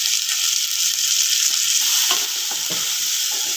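Tomatoes roast in a hot pan for tomato rice, giving a steady, close sizzle with a few soft stirring scrapes and no talking.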